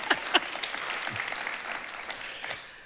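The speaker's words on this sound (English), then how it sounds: "Big round of applause for that." Audience applause at the VRINN Awards 2025, a Nordic VR Forum ceremony in Hamar: dense, steady clapping from a seated crowd, with a couple of sharper claps near the start, fading slightly toward the end.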